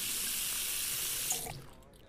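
Running tap filling a cooking pot with water in the game Cooking Simulator, a steady even hiss of flowing water that fades out near the end.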